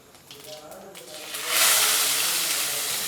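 Ground onion, ginger, garlic and green chilli paste hitting hot oil, a quiet start swelling into a loud, sustained hiss and sizzle.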